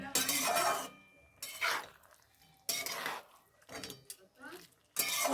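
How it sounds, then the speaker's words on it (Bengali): Potato and papaya being stirred in a kadai, a spoon scraping and clinking against the pan in uneven bursts with pauses between strokes. "ঘন ঘন এই সময় নাড়তে হবে, তাহলে কড়াইয়ে লেগে যাওয়ার সম্ভাবনা থাকবে।"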